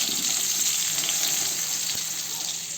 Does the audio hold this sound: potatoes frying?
yes